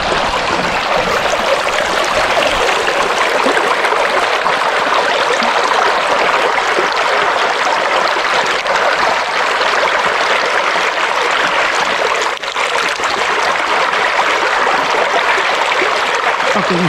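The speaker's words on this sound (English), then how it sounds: "Sluice is running absolutely fine." Water rushes steadily through a gold sluice set in an Irish river, a loud, continuous broadband splashing and gurgling that holds constant throughout with no voices.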